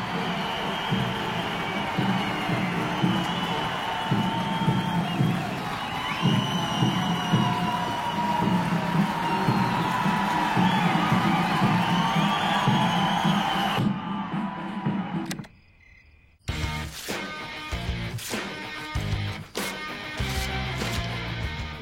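A large crowd cheers and applauds loudly for several seconds, then the noise drops away and music starts.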